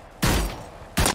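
Two loud heavy pistol shots in the Hyperscape video game, about three-quarters of a second apart, each a sharp blast with a short fading tail, no voices.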